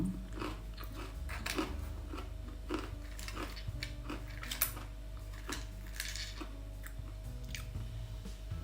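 Crispy baked dried taro chips are crunched up close, with repeated irregular bites and chews over a constant low background hum and no talking.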